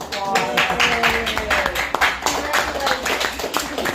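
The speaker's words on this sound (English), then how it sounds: "Give him a big round of applause." Clapping from a group gathered at a city council meeting, a loose, moderately loud patter of hands with speech and room noise mixed in around it.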